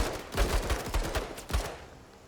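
Rapid gunfire from the video game MENACE, a string of sharp cracking shots in uneven bursts that stops abruptly, leaving a quieter tail.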